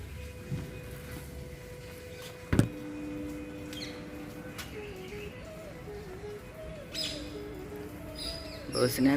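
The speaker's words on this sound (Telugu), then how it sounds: "రకరకాల పిట్టలు." Assorted small birds chirp and call around a home feeding spot after a night of rain, a steady run of short tweets and a few brief sharper calls over quiet outdoor background.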